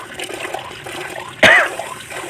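A single short cough, close and fairly loud, bursts out partway through, set against low kitchen background noise while soup with shell pasta is being cooked.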